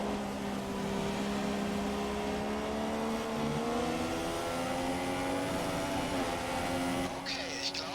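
Engine note of a Formula 1 car in the F1 2016 racing game on the Belgian circuit, a steady layered whine that holds and shifts pitch, rising under careful throttle, continuous and fairly loud with a voice talking over it.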